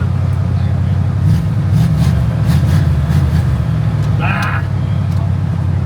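Pontiac Firebird project car with a big cam idling loudly at a car show, a lumpy, uneven low rumble running steadily throughout while people talk nearby.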